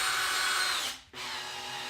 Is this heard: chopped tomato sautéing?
no